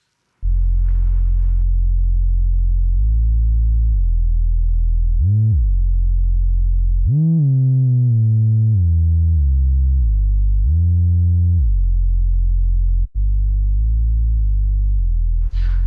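A synthesizer plays sustained notes with a deep, heavy low end and gliding pitch bends, loud and up close, with no voices.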